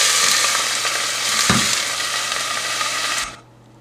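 Ginger, garlic and onion frying in hot oil for red lentil dal with spinach, a steady loud sizzle with faint stirring scrapes that cuts off near the end.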